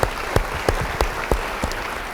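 An audience at a church sermon gives a round of applause, a dense wash of clapping with a few sharper accented claps landing at a loose, fairly regular rhythm.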